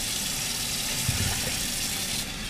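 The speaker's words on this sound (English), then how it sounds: "Pour this down the drain." Liquid poured down a kitchen sink drain, a steady rushing flow of water close by that drops off slightly near the end, with no talk over it.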